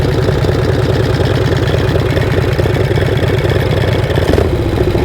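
A motorcycle engine idles slightly high on an evening ride, a steady close rumble with even rapid firing pulses that holds for several seconds without talk.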